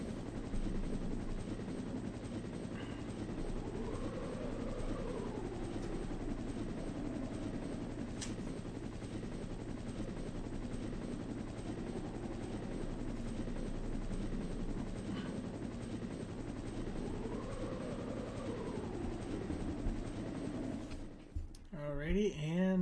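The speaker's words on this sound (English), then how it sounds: "the screen fades to black and the helicopter cutscene starts" A helicopter in a Resident Evil video game cutscene: rotor chop drones steadily throughout, with a rising and falling whine passing twice before the sound cuts off abruptly near the end.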